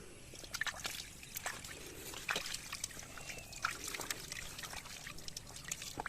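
Water trickling and splashing steadily nearby, with small irregular drips and spatters over a soft continuous flow.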